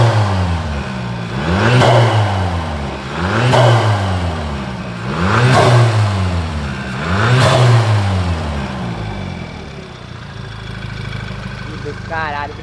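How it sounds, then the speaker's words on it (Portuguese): A Volkswagen Jetta turbo engine revs hard four times in a regular rhythm, each rev climbing then dropping with a whooshing turbo flutter release, then settles to a low idle. "Então o espirro tá muito forte do turbo"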